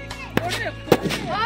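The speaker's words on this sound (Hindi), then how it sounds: "दो पटाखा एक साथ" Two sharp Diwali firecracker bangs, set off together, crack out about half a second apart, loud and close, with voices in the background.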